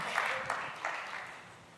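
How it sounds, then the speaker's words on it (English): A small group applauds at a Celebrate Recovery gathering, with a short burst of clapping and a few cheers that taper off within a couple of seconds. "let's give him a round of applause"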